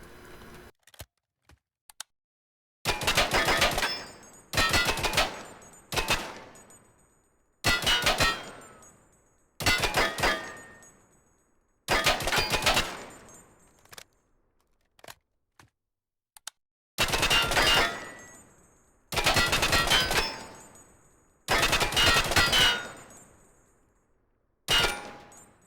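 A G3 battle rifle fitted with an LPVO 1.6x scope fires at a gun range in the game Timeless and Classics Zero: about ten sharp bursts of rapid automatic fire, each with a brief ringing tail, separated by short pauses.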